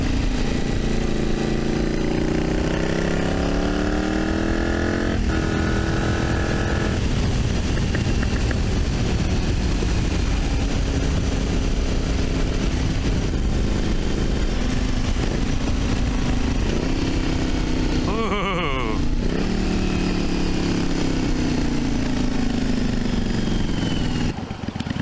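A 40-year-old V-twin motorcycle engine runs continuously, loud and close, its pitch rising and falling with short gear changes and revving, with a brief sharper burst near the end.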